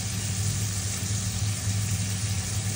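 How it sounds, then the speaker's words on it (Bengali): Garam masala paste goes into a pan of cooking keema with bengal gram dal, giving a steady, fairly quiet sizzle under a low hum. "এই যে গরম মশলা বাটা দিয়ে দিলাম"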